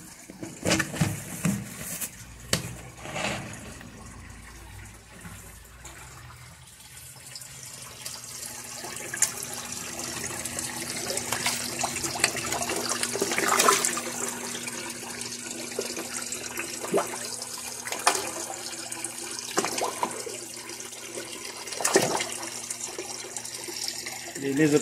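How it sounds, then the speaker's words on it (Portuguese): A pump inside a fish tank pours a continuous stream of water, with steady splashing and trickling throughout, some louder bursts, and a low hum underneath. "Tem uma bomba que solta água lá em cima"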